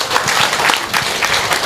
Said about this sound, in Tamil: எல்லோரும் சேர்ந்து ஒரு கைத்தட்டு கொடுக்கணும்